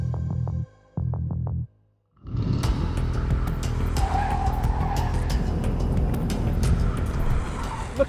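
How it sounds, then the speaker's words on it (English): A low motor hum stops twice, then a manual-gearbox electric Porsche 356 drives off with rising whine and tyre noise that stays loud and steady until the end. "I'm changing gear in an electric car."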